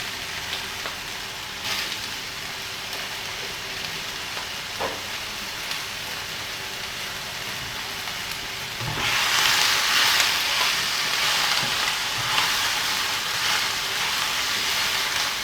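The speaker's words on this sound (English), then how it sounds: "I'm frying on a relatively high heat at the moment." Steady sizzling of squid frying in hot oil over fairly high heat, a continuous hiss that grows noticeably louder and brighter partway through.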